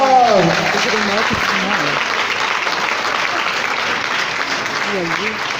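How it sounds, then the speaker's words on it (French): Conference crowd applauding, a loud continuous wash of clapping that runs the whole time, with a voice briefly audible over it near the start and again near the end. "je veux une phase d'applaudissements"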